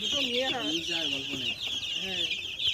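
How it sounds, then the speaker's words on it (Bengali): A native village rooster clucks in short, repeated, bright calls close by, several bursts in a row over a hissing background. "দেশি মোরগ দেখুন"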